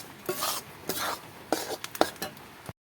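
A utensil scrapes and stirs in a pan with faint sizzling, several quick strokes up close, frying atta and puffed rice for sandesh.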